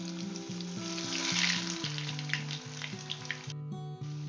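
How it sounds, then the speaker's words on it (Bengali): Chicken chops sizzle and crackle steadily in hot oil, close up, with an even frying hiss and a few sharper pops, while a tonal music bed plays underneath and no one speaks. "আমি তিনটে তিনটে করেই ভাজবো।"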